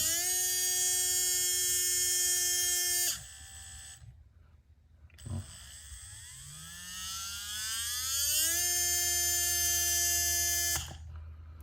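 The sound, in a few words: Trinity 25.5T RC brushless motor running on test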